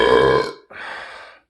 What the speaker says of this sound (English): Dude, I have like a chain of just great burps.